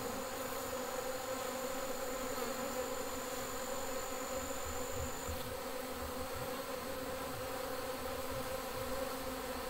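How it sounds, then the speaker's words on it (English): A dense, steady drone of many honey bees buzzing all at once around a caged queen, continuous and close, with no pauses. "And see all the bees are going to her"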